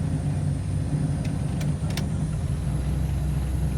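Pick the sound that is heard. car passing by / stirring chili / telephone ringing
car passing by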